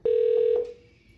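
A single telephone keypad tone sounds for a speakerphone call. It is one loud, steady beep lasting about half a second, followed by a brief fading ring tail and quiet.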